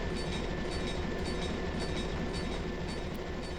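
An E8A diesel locomotive in Train Simulator Classic pulls away with a light train, a steady dense rumble of engine and rolling wagons holding constant and fairly loud throughout.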